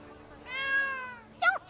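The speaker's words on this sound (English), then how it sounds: "It's just a cat." A single drawn-out cat meow in the video game Granblue Fantasy Relink, clear and fairly close, with a short burst of higher chirping game sound right after it.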